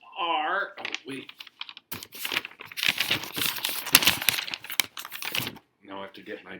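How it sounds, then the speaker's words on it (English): Blank sheets of paper are pulled out and handled during a lecture, making dry crinkling and rustling close by for several seconds, with brief speech just before and after. "Now I have to get my blank paper out."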